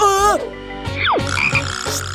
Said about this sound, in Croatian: Kakva slatka žaba.